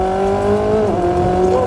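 Koenigsegg Sadair's Spear supercar driving on a track, its engine a loud, steady drone with a slight pitch dip partway through, heard close up from inside or near the car with no one talking.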